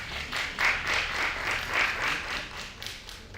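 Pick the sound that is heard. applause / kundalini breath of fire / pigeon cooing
applause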